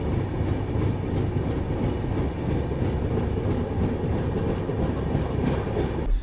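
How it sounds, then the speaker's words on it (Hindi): A Secunderabad–Bhubaneswar Visakha Express crossing on the adjacent track, heard from aboard a moving express train in Odisha: a loud, continuous rumble and roar of rolling wheels that stays steady throughout. "सामने किसी ट्रेन से अपनी क्रॉसिंग भी हो रही है, यह है सिकंदराबाद भुवनेश्वर विशाखा एक्सप्रेस।"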